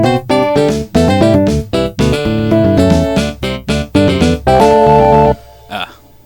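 A second guitar doubles a saxophone line an octave lower, playing a quick, choppy prog-style melodic phrase in tight unison, loud and close, with brief gaps between notes before stopping.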